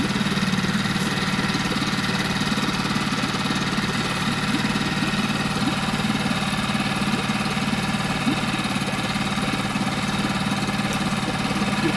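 A Honda 5 engine runs at a steady idle, a loud, close, continuous rumble with a slight knocking vibration and no breaks.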